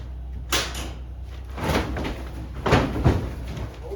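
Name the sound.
forcing open a frozen shed door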